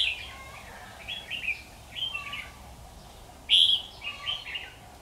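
Red-whiskered bulbul calls at a trapping site: short bright chirping phrases repeat every second or so, moderately near, with one louder burst partway through, over a quiet outdoor background.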